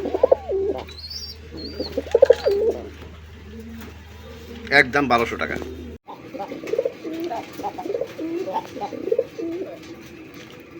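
Red-eyed Rasgolla pigeons cooing up close in a pair, soft repeated coos and a few chirps while someone talks over them throughout.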